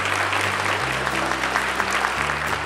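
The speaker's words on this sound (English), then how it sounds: "Give them a round of applause" Applause at an elementary school gathering welcoming guests, a steady wash of clapping from a crowd with a sustained low hum beneath it.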